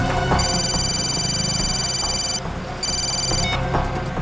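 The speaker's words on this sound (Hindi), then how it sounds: "अभिजीत को फोन करता हूँ" A telephone ringback tone heard while placing a call, with two long electronic rings separated by a short pause, loud and close.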